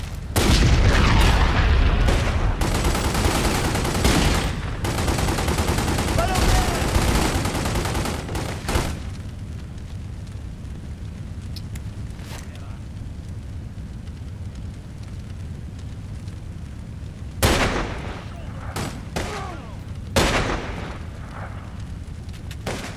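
Heavy gunfire and booming blasts from level 4 weapons in The Godfather II, a loud dense barrage for about nine seconds, then quieter ambience broken by a few sharp isolated shots.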